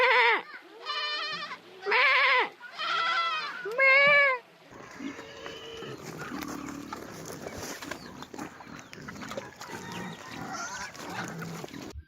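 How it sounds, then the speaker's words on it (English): Lambs bleating loudly and close on a farm, four long wavering cries in a row, followed by rustling and milling livestock with softer bleats underneath. "I'm surrounded by lambs at the moment."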